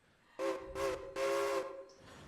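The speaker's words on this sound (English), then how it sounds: "I hear a train." A steam-style train whistle in the game Railroader gives three sustained blasts, the second short and the third longer, fairly loud with a steady tonal chord, followed by a faint trailing hiss.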